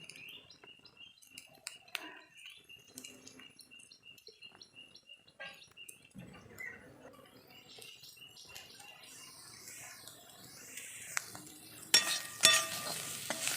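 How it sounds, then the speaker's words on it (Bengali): Leafy greens frying in a pan with potato, onion and chili, stirred now and then, giving soft intermittent sizzling and scraping at close range, quiet overall with a louder burst of clatter near the end. "দেওয়ার পর এভাবে ভালো করে নাড়তে থাকবো যতক্ষণ না ভাজা হচ্ছে।"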